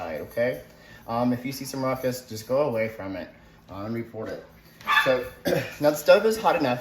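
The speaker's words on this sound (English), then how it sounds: "And that's my dog." A roommate's dog barks in short, repeated yaps at a moderate distance, mixed in beneath a person talking in a home kitchen while cooking.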